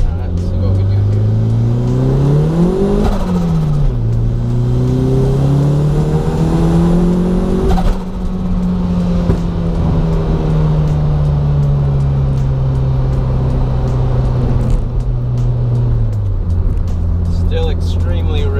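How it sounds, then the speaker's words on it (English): A turbocharged Toyota MR2 running a very rich tune accelerates hard through the gears, its engine note climbing, dropping at a shift and rising again as the tires spin in second, with talk over it. "Still extremely rich. But tons of wheel spin, second gear."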